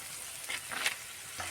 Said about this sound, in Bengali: বাকিগুলো একটা একটা করে ভেজে নেব।